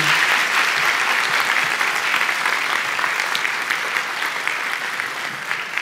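A live audience applauds warmly for a young Quran reciter on stage at a festive event, with dense, steady clapping that carries on throughout and eases slightly toward the end, with no voices over it.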